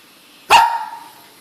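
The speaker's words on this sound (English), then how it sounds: "Okay, this is my dog." A one-year-old dog gives a single sharp, loud bark close by that rings briefly before fading, with no talking.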